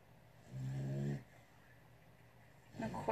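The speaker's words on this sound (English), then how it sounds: "course my dog is going to snore." A dog snoring nearby at a quiet indoor spot, with one long rumbling snore followed by the start of another, soft and close and with no talk.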